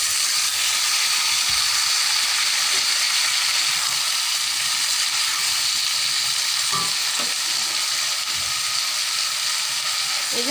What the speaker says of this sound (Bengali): তারপর কেটে রাখা মিষ্টি কুমড়াগুলো ঢেলে দিলাম